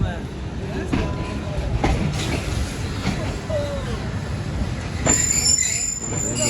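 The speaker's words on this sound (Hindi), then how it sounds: "ट्रेन रुक चुकी है और हम भी अब उतरते हैं" Hazara Express train wheels squeal as it comes to a stop at a station in Pakistan, loud metallic screeches over a rumbling rail clatter, with voices speaking in the background.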